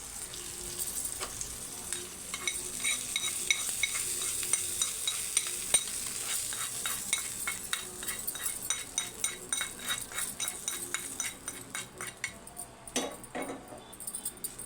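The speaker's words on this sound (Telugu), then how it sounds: "ఇందులోనే మనం ఇలా తాలింపు వేసుకోవాలి" Tempering spices sizzle in a pan for curd rice with a bright, fairly quiet hiss, while rapid metallic clinks of a spoon against the pan build up and repeat through the second half.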